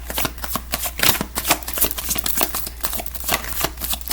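A tarot deck shuffled before a reading, giving a close, continuous papery riffling and flapping with soft card taps throughout and no voices.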